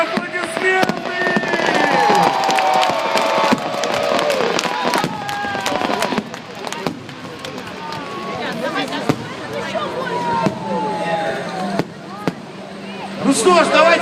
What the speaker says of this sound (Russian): Ой, ребята, там тоже просто посмотрим на салют.